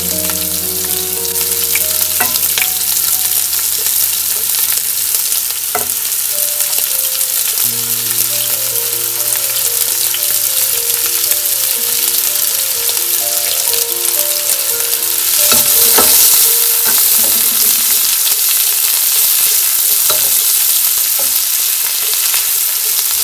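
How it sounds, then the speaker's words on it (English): Prepared ingredients roast in hot oil in a pan, giving a loud, steady sizzle and frying hiss throughout, with occasional stirring scrapes and no voices. "To this, I'm going to add all the prepared ingredients, and I'm going to roast them for a couple of minutes."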